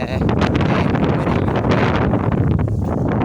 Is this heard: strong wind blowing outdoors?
yes